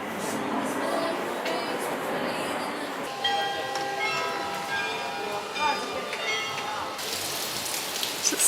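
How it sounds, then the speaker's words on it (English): Heavy rain pours onto a roof in Amsterdam, a dense, even hiss of drops heard from beneath shelter, with faint tonal whines and rumbles from the surroundings mixed into the downpour. "You can't actually see how heavy it is raining"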